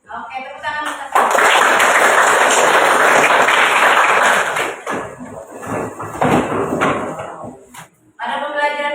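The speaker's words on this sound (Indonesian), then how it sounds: "Oke, tepuk tangan untuk saya." A group in a classroom lesson bursts into loud, close clapping for a few seconds, then trails off into scattered claps, with a teacher speaking before and after.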